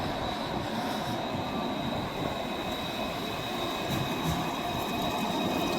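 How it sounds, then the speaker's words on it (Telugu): A Luas tram pulls into a stop in Dublin, Ireland, a steady rolling rumble of wheels on rail with a thin high whine running throughout, fairly close and with no talk. "ఇది మన లువాస్ వచ్చింది, మనం దీన్ని ఎక్కేసి వెళ్దాం."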